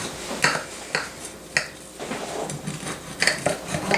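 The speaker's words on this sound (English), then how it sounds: "you want to take a nice knife, like so. And you cut this just like you would a pie." A knife cuts a slice from a hot hoe cake in a pan, producing a series of sharp metallic clicks and scrapes spaced irregularly, fairly close and clear with no talking.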